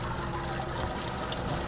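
Sweet wort drains from the grain bed of a Keg King Guten brewery mash tun down into the kettle, a steady close trickle and pour of liquid running continuously without a break.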